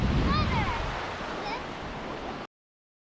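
Ocean surf rolls steadily at Redington Beach, Florida, a continuous wash of waves mixed with wind noise, with faint chirps above, cutting off abruptly after about two and a half seconds.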